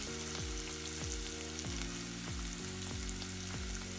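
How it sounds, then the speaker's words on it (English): Sliced coriander fries in hot oil in a pan for a mung bean curry, giving a steady, even sizzle under rhythmic background music with repeating bass notes. "Fry that for a few seconds."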